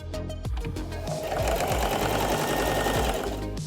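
A sewing machine stitches steadily and close by, its rapid mechanical whir running continuously after a brief start, with no voices.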